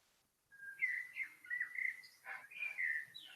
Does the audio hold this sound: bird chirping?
yes